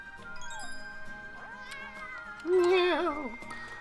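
A cartoonish cat meows in the Bowser's Fury video game, a few short mews followed by a louder, drawn-out meow near the end, over quiet game music.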